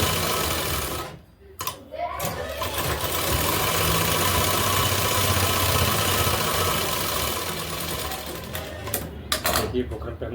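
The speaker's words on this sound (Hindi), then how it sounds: "ये बुकरम पे हमने किनारे की सिलाई लगा ली" A sewing machine stitching along the edge of buckram runs in a steady, loud mechanical whir for most of the stretch, pausing briefly near the start and stuttering at the end with a voice speaking over it.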